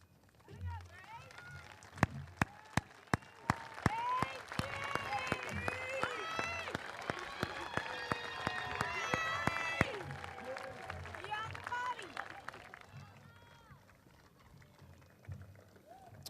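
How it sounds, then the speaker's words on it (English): Graduation audience at the Pembroke High School Class of 2017 ceremony applauding, a dense sustained round of clapping with cheers and voices, sharp louder claps standing out near the front, fading toward the end. "join me in applauding their efforts"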